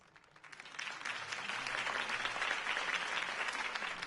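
Crowd applause at a Harvey Dent campaign rally in Batman: The Telltale Series, swelling from quiet into a dense, sustained wash of clapping.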